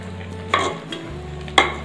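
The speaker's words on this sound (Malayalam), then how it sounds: "നന്നായിട്ടൊന്ന് ഇളക്കി കൊടുക്കാം." Pumpkin and bean olan being stirred in a pot, a short burst of spoon scrapes and two sharp clinks against the metal, with a faint low simmer under them.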